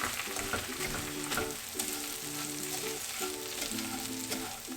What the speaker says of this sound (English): I like to just use a wooden spoon to just toss this around.